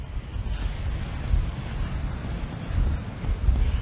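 Sea swell breaks and surges along a rocky coast strewn with sea sponge, a continuous low rumbling wash of waves with wind buffeting the microphone, no voices.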